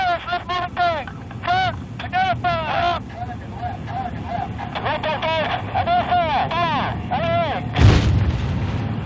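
An M1 tank's main gun fires a sabot shell, one heavy close boom near the end, while someone narrates throughout over a low rumbling background.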